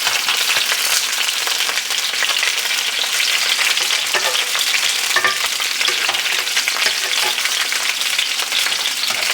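Sausages frying in a pan on low heat give off a dense, continuous close sizzle with fine crackling throughout, like steady rain.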